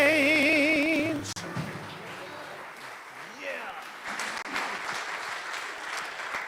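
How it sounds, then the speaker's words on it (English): A live audience applauds a band after its performance, sustained clapping that rises as the last sung notes fade out at the start. "Let's give them another round of applause."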